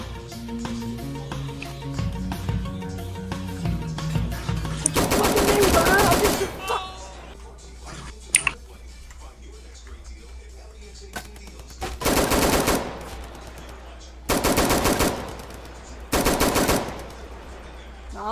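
Video-game gunfire from a neighborhood shooting game as a player shoots out house windows, heard in several loud, dense bursts separated by quieter stretches, with background game music and sound effects between them.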